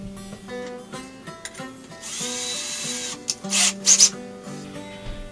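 Power drill boring holes in the bottom of a metal syrup can for a banjo, a sequence of short whirring bursts followed by a longer grinding stretch and a few loud scraping bites near the end.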